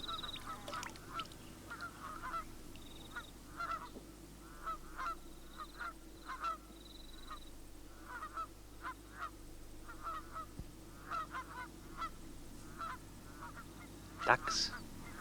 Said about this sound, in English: there's geese and a few Canada geese over there feeding on